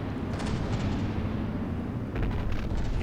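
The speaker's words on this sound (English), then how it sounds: "And an ammo detonation somewhere." Ammo detonation explosion in a battleship game, a dense continuous roar of blasts and rumbling booms filling the whole stretch, loud and heavy with no pause.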